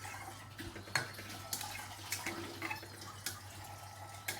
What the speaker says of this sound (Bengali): আমি জলটা পরিমাণ মতন দেবো